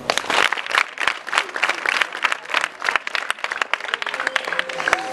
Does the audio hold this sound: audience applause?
yes